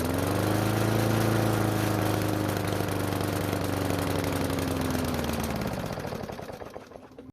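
Small cheap lawn mower engine running after its carburetor is primed, a loud close idling drone that holds for about five seconds, then sputters and dies away.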